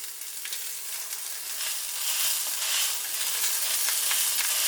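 Steak sizzles and fries steadily in a pan with butter, garlic, rosemary and thyme, a continuous close, fairly loud crackle with no talking.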